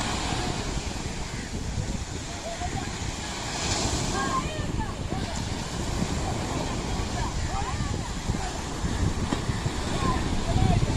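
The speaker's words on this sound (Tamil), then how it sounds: "இப்போ பாருங்கள் திடீர்னு காற்று கிளம்ப ஆரம்பிச்சிச்சு" Wind rises steadily over the open sea during a fishing trip, a broad, constant rush and roar with surf washing beneath it, growing slightly louder toward the end, with no voices.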